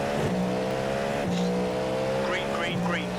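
Race cars in the iRacing sim game accelerating hard at the green flag, engines revving up in repeated rising sweeps with gear changes between them, loud and close, with tyre noise under the engine roar.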